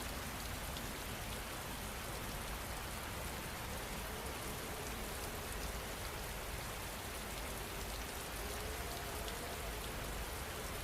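Steady, dense rainfall at night, a continuous even hiss of drops on surfaces with no pauses, filling the whole stretch without any voices.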